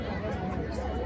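A dense crowd chatters at a Rajbanshi program, a continuous murmur of many overlapping voices close around.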